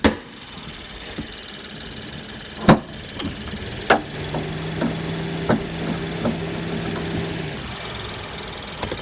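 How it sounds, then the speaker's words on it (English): A 2019 Suzuki Swift Boosterjet 1.0-litre three-cylinder turbo petrol engine with a five-speed manual gearbox idles at a steady low hum, broken by a few sharp clicks and knocks, with no talk over it. "That's the engine, which is 1 liter 3-cylinder turbo."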